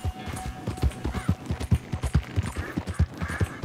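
Horse hooves gallop in a video game, a steady fast clip-clop rhythm of loud, close hoofbeats running throughout without pause.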